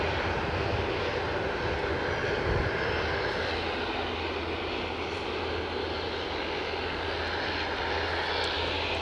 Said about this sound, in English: ATR's heading towards runway 34.